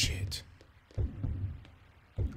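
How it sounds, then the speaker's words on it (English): Heavy game heartbeat thumps in Siren: Blood Curse, a low pulsing beat that repeats three or four times at a slow, steady pace. A voice sounds over it at the start. "Why is my heart beating again?"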